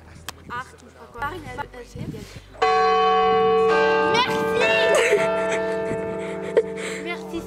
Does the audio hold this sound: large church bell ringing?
yes